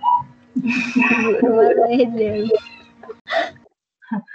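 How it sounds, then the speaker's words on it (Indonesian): A cat meows clearly several times, close and loud, in a series of drawn-out cries with short pauses, with brief talk around the calls. "Oh, kucingnya."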